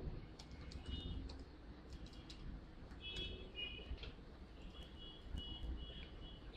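Keys tapped on a computer keyboard while writing text in Photoshop, a quiet, steady patter of light clicks over a low background hum, with no talking.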